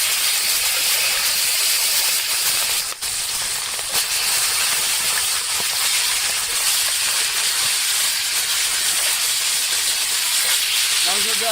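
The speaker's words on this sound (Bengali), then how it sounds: "সেই মাংসটা তেলের ভিতর দিয়ে দিলাম" Country chicken meat fries in hot oil, giving a loud, dense, steady sizzle and hiss that holds without a break throughout.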